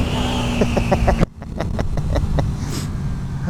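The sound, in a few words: motorcycle engine while riding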